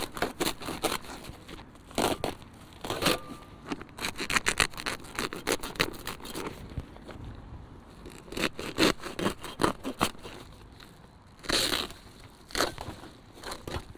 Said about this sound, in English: you can see how that saw, whilst it will not cut through wood anymore, still cuts through the bag no problem